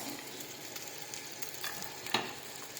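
Green chillies and curry leaves, with onion, fry in a pan, giving a soft continuous sizzle with occasional stirring scrapes.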